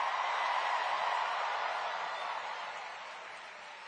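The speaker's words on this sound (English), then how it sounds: "Can we first hear a round of applause for our incredible MC" A large crowd at a New York mayoral rally applauds in a dense, steady roar of clapping and cheering that gradually fades over a few seconds, with no speech over it.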